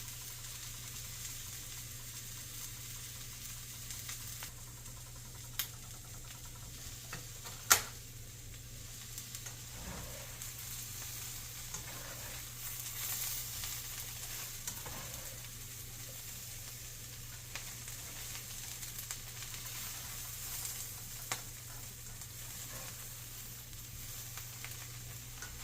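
Soy curls searing in a pan for vegan teriyaki give a steady, quiet sizzle and faint crackle with a low hum underneath and a few small clicks, without any talk.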